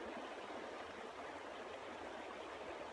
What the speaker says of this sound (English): there is a river flowing